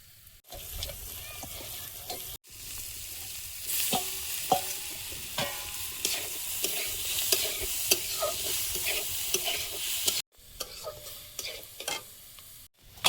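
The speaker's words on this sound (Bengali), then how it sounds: "চিংড়ি মাছটা লবণ হলুদ মিশিয়ে নেব।" Shrimp being mixed by hand with salt and turmeric powder in a bowl, a close, soft wet squelching and rustling that runs continuously, broken by a couple of brief pauses.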